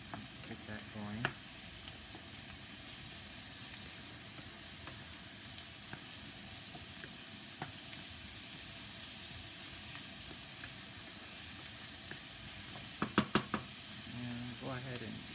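Minced lamb frying in a pan for keema curry, a steady low sizzle throughout with a few sharp knocks of utensils against the pan near the end.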